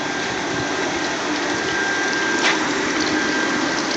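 A metering pump in a water purifying system for glass injects flocculant drawn from plastic barrels, giving a steady, unbroken mechanical whir with a watery rush, loud and close throughout, without speech.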